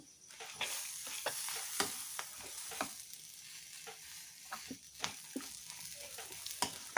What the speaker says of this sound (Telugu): నేను కొంచెం పచ్చిది కొంచెం ఫ్రై చేసి వేస్తున్నాను